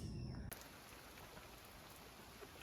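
Rain falls outside over a garden beside a house, a steady even hiss of drops that continues unbroken after a brief louder disturbance at the start.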